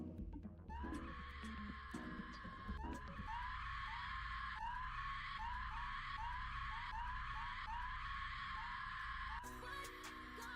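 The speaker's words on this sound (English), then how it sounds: "All I can hear is screaming." Repeated loud screaming voices, several sustained shrieks one after another, filling the space continuously with a low rumble beneath.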